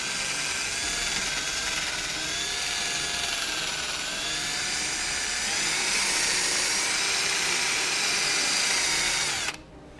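A power drill whirs steadily for several seconds, its pitch wavering slightly as it bores, then cuts off abruptly near the end.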